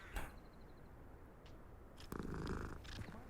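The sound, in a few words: cat purring in the video game Hogwarts Legacy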